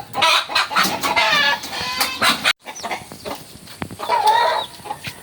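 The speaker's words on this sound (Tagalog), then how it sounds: "Bibitawan na yung mga sisiw." Chickens and chicks clucking and cheeping close by at a home, a dense run of overlapping calls that breaks briefly near the middle and then resumes, with no talk over them.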